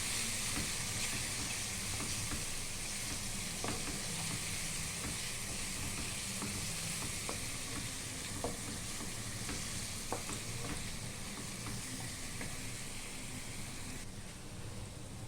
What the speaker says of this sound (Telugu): పచ్చి వాసన పోయే వరకు ఇలాగా ఫ్రై చేసుకున్నాక